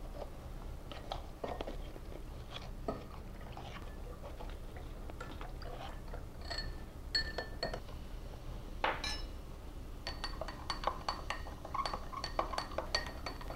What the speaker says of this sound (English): You're going to mix cranberry into this, and I'll mix some baking soda in here